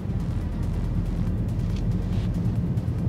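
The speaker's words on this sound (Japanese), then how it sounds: "本当にロードノイズの音がねちょっとだけ聞こえる。" Inside a petrol BMW 320i on the move, steady low road and tyre rumble fills the cabin as a soft, even drone with no talk over it.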